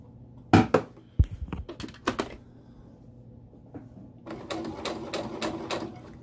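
Sewing machine stitching a piped seam along the piping cord: sharp clicks and short mechanical bursts as the needle is lowered and the fabric pivoted, then a steadier run of stitching toward the end, close and fairly quiet.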